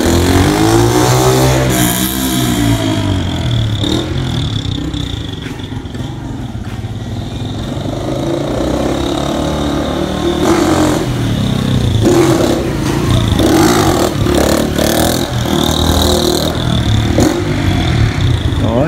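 A car engine revs hard up to the rev limiter and the clutch is dropped, a loud continuous roar with rising and cutting revs, close by, without speech, on a street.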